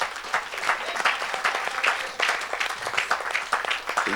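A church congregation at a Saturday worship service claps steadily and loudly for Jesus, dense continuous applause throughout.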